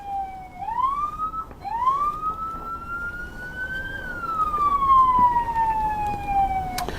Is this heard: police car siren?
yes